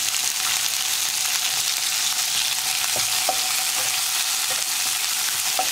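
Onions and curry leaves sauté in a pan with a loud, dense, unbroken sizzle, with a few faint stirring clicks heard near the middle.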